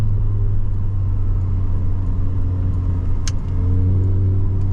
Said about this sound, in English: You've got that little hum in the car that honestly gets old.